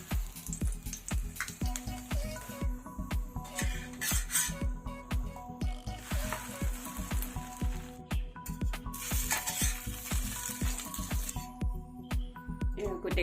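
Aloo paratha sizzling in a pan with ghee or oil, a steady soft crackle and hiss running under repeated rhythmic tapping and scraping, fairly quiet and close throughout.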